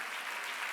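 Applause from a church congregation during a Korean Sunday worship service, a steady, dense wash of many hands clapping together across the whole short moment.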